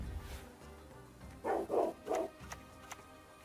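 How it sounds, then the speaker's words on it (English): A pet dog barking in a home, three close, loud barks in quick succession followed by a couple of softer ones. "Yep, my dog's going off."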